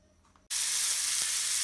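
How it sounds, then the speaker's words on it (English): A large piece of pot roast beef hits a hot pan and bursts into a loud, steady sizzle that continues close by after a brief quiet moment. "I'm gonna sear my pot roast to get it nice and crispy on the outside"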